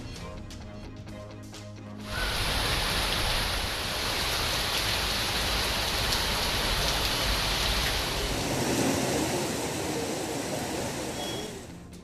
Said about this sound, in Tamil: திருச்சி, சேலம், திருப்பூர், நீலகிரி உள்ளிட்ட மாவட்டங்களில் வெளுத்து வாங்கும் கனமழை